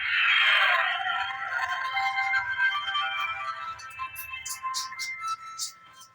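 A Vivo mobile phone plays its melodic switch-on tune, a bright chiming phrase that starts loud and slowly fades, followed by a few short, high chirps near the end.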